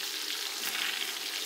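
Spices and salt hit a hot pan for spicy chicken kofta biryani, giving a brief, even, bright sizzle heard close and alone.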